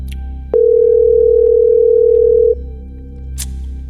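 A steady telephone dial tone holds for about two seconds while someone calls a person back, loud and unbroken, with a faint click at its start and quiet room noise before and after.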